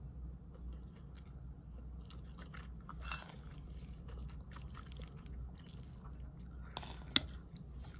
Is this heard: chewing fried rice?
yes